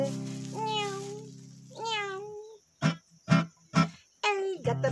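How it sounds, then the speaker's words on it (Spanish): In a children's animal-sounds song, a cat meows loudly several times in a row, with long drawn-out calls and short sharp ones set between sung parts. "vino el gato y lo hizo callar."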